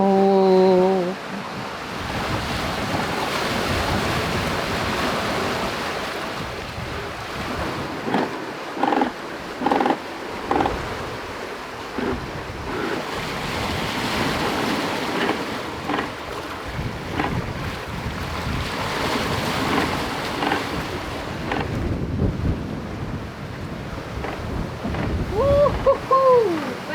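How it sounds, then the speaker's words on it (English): A sailboat surfs fast down ocean waves at 11 to 12 knots, with loud continuous rushing water and heavy wind buffeting the microphone, swelling and easing in long surges with no talk. "It's the sound. Yeah, so loud. The sound of surfing."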